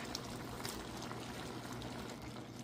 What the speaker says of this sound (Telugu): రొయ్యలు ఉడుకుతున్నాయి కదండి